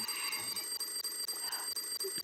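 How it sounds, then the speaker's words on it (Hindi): Rapid repeating electronic beeps from an alarm clock ringing in a bedroom, steady and fairly close. "उठो, अलार्म बज रहा है।"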